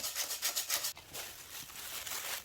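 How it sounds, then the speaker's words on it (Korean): Mill-ground chili powder is rubbed through a fine sieve, giving soft, close rhythmic scraping strokes followed by a quieter continuous rustle. "한 번 더 체에 내려준 후에 고추장을 만들어 놓으면 덩어리 지지 않고 잘 풀어져서 좋습니다"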